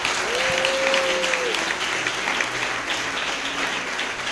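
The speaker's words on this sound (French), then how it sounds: "Il faut l'acclamer, s'il te plaît." An audience at a religious seminar bursts into sustained applause, with steady, dense clapping holding at a loud level throughout, while a voice briefly rings out over the clapping.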